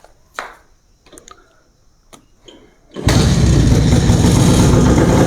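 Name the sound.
old motorbike engine starting and idling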